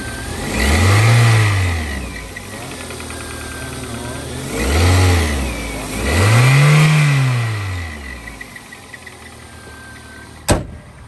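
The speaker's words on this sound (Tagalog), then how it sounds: "Mag-revolution tayo para marinig." Car engine revved three times from idle, each rev swelling and falling back in a smooth arc, close and fairly loud, over a steady idle hum.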